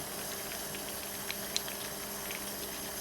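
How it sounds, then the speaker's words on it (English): Cinnamon red-hot candy apple sugar syrup bubbles slowly in a pot, giving a steady soft hiss with a few sparse, faint pops rising out of it. "I don't know if you noticed how slow the bubbles are, and they just kind of pop."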